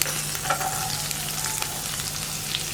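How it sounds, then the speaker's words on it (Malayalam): Chopped onion and green chilli sautéing in a pan for kothu puttu, giving a continuous close sizzle with soft scraping stirs and small crackles, no voices. "സവോള ഒന്ന് കളർ മാറി വരുന്നത് വരെ ഒന്ന് വഴറ്റിയെടുക്കുക"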